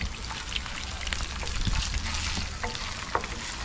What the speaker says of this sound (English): Can you hear the sizzle? It smells amazing alright.